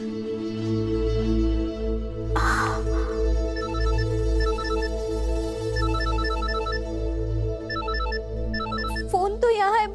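A telephone rings repeatedly in a domestic TV drama scene, its bright electronic ringtone pulsing in short regular bursts over a low steady musical background, with a brief voice partway through.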